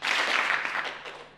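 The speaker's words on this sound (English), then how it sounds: "So I need you guys to clap." Audience members at a UC Merced spoken-word performance clap together as part of a participation piece, giving a short burst of dense, fairly loud clapping that tapers off slightly by the end.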